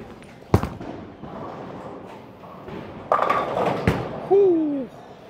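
A Hustle RIP bowling ball thuds onto the lane and rolls with a rising rumble, ending in a clattering pin strike, while a voice exclaims briefly near the end.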